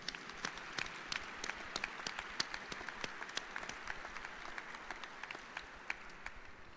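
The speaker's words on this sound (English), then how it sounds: "So everybody, please, round of applause." At an Air Force test wing change of command ceremony, a crowd applauds with continuous, even clapping throughout, heard fairly faint and at a distance.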